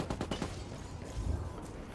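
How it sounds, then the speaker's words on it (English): A quick burst of rapid gunfire in a competitive Ghost War shooter match, several sharp shots close together at the start, then fading into low background game noise. "War Creeper putting gunshots into that gas drone"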